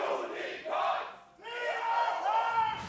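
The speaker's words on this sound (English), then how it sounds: "there's the game the audience is playing right now, which is who can cheer louder" An esports arena audience at the 2019 League of Legends World Championship play-in knockouts cheers loudly, a dense roar of many voices that swells, dips briefly, then surges again with shouted, chant-like tones.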